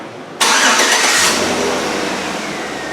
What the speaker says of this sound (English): So fire up the engine and let me know how the brakes feel now.